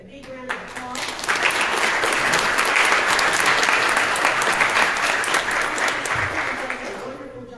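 Dinner guests at a Hawkins County GOP Lincoln Day dinner give Gary a loud, steady round of applause that swells quickly, holds for several seconds and then tapers off.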